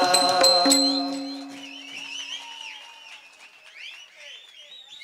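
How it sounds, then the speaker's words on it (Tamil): Audience applause at a village stage drama in Tamil Nadu, starting loud over a held musical tone and thinning into lighter scattered clapping with crowd murmur. "கைதட்டின ஆளுகதான் தமிழ்நாடு"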